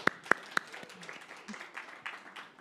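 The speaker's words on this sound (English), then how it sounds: "So let's give them a round of applause." Applause at an industry summit on vulnerable communities, opening with three loud, close individual claps followed by fainter, scattered clapping from a modest audience.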